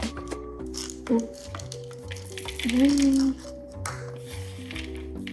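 Peanut butter chocolate chip cookie dough being folded in a bowl: soft, sticky squishing and scraping strokes, close by, under background music and a voice.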